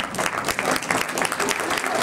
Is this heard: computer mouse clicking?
no